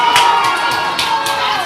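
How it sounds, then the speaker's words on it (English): Spectators at a boys' soccer match between University School and North Broward Prep cheer and shout loudly, a continuous roar of many voices with sharp yells rising above it. "And the crowd really getting into it now on both sides."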